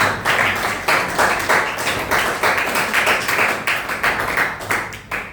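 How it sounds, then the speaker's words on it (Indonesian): Students in a classroom clap together in a brisk, loud burst of individual claps, the rhythm rising and falling in short surges throughout with little talking. "Tepuk tangan untuk kalian semua."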